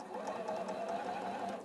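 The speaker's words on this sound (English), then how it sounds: "I'm doing really well with the sewing machine today." A sewing machine stitches fabric in a steady, fast whirring run, close and even throughout, with no talk over it.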